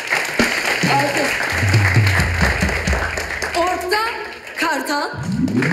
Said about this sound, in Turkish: Evet, alkış alkış.